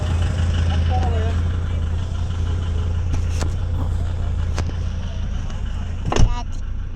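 Steady low rumble of a car moving along, loud and continuous, with a brief sharp knock near the end; a voice speaks faintly beneath the road noise.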